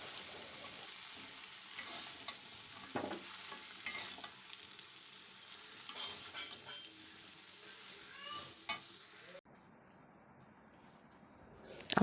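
Chopped bottle gourd stirs and sizzles in an oily pan, with scraping strokes over a steady fry for most of the stretch, then it drops to near quiet before a final clatter.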